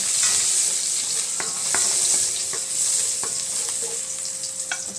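Garlic sizzles steadily in hot cooking oil, a constant close frying hiss broken by occasional scrapes and stirring clicks.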